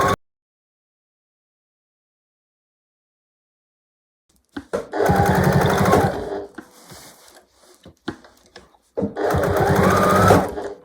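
Sewing machine backstitching and then sewing a seam on a quilted double pot holder, two loud steady whirring runs after a long silence, separated by a brief pause with light clicks, close by.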